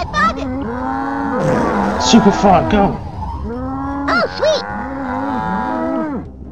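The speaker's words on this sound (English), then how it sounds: "Oh my god, there's loads of cows." Cattle mooing in the Nintendo 64 game South Park, several loud drawn-out moos repeating one after another over game effects, with a voice shouting briefly.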